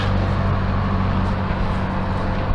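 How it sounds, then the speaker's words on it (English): A heavy truck pulls out of a facility, its deep engine rumble steady and close throughout with no pauses. "Now we've got the truck coming out as well, look."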